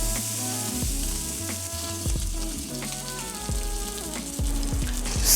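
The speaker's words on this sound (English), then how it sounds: "Render the fat." Dry-aged prime New York striploin fat rendering in avocado oil in a pan, a steady, close, hissing sizzle with faint crackles throughout and no voices.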